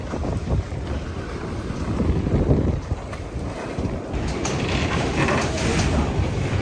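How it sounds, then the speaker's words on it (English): Heavy ocean swells rush and break around a sailboat in the Mediterranean, with steady wind buffeting the microphone and creaking boat noises throughout. "So a couple of them are breaking before they get to the boat."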